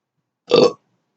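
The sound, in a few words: burp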